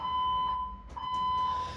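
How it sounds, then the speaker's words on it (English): A pulled fire alarm in a building rings with a steady, loud, high electronic tone that holds throughout, with a brief dip in the middle, and no voices. "they've pulled the alarm a second time, right after the announcement"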